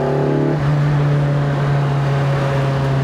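A Lotus Elise 340R engine holds a loud, steady high-revving note, its harmonics briefly shifting early on before settling into a constant, buzzing drone heard from the cockpit.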